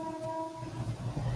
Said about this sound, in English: Freight train. Nah, it's just a suburban one.